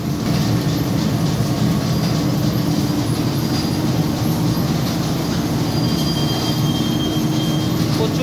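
An automatic roti-making bakery machine in Oman runs with a loud, continuous rattling mechanical drone and a rhythmic clatter of conveyor parts, steady throughout with no talk.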